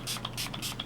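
Josh Rosebrook Hydrating Accelerator face mist sprayed in several quick hissing pumps, three or four short bursts in rapid succession, close and crisp with nothing else heard.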